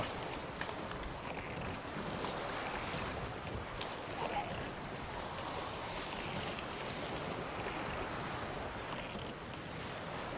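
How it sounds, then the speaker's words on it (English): A boat moving along a river in The Witcher 3, with steady water wash and wind noise running evenly under the whole stretch, no voices. "we can actually speed the boat up"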